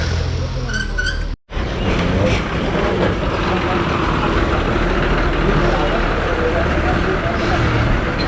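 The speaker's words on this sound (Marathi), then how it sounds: "उमरे गाडी आली." A bus rolls along a narrow village road in the rainy season, a steady engine rumble with road noise and a brief hiss like an air brake. Voices talk over it.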